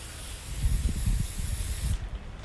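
A continuous hissing aerosol crack-test spray runs onto a clean cloth for about two seconds, with soft rustling underneath, then stops, while crack testing a 1950 MG cylinder head.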